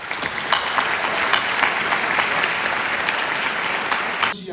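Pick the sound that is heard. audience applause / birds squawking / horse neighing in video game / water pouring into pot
audience applause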